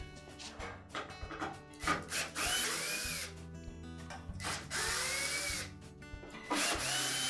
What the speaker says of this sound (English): There are a series of screws across the bottom here that will need to be removed.